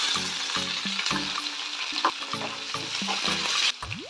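Curry leaves and finely chopped shallot sputter and fry in hot oil for a beans poriyal tempering, with a steady close sizzle and repeated stirring scrapes and clinks of a spoon against the pan, and no talk.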